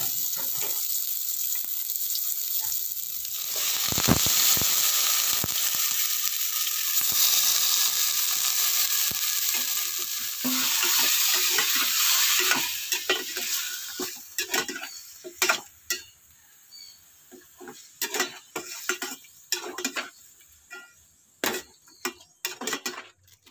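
Ginger, onion and garlic sautéing in a pot for a pork rib soup, a loud continuous sizzle that fades after about fifteen seconds into sparse crackles and ticking spatula taps.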